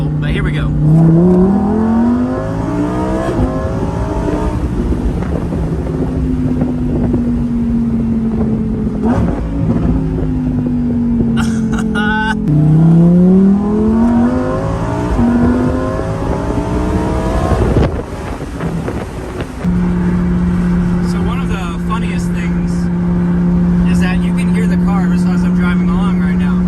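A bright orange Lamborghini Huracan EVO Spyder pulls hard, its engine note rising through several gear changes with revving climbs and drops, loud and close with wind rush, ending in a steady drone while a driver talks over it.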